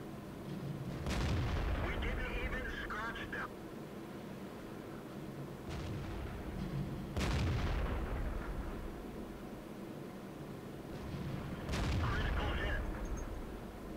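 A tank gun fires in the video game World of Tanks, with about four heavy booms spaced several seconds apart, each with a rumbling tail, over a constant low engine rumble; a voice talks over it.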